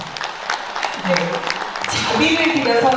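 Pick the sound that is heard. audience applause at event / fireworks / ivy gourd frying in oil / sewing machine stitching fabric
audience applause at event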